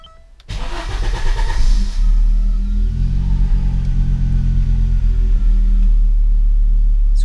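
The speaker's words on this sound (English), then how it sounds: "Now it's telling me to start the engine." A car engine cranks and catches after a brief quiet moment, then settles into a loud, steady idle with a deep low rumble that holds to the end during a starter health test.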